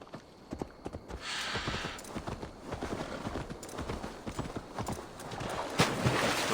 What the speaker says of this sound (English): Hi, horsey.